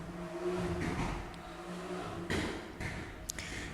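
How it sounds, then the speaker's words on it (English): Noisy cars passing along a residential street, a steady low engine rumble with a couple of swells as vehicles go by, fairly faint and distant in the background. "there are some noisy cars on my street"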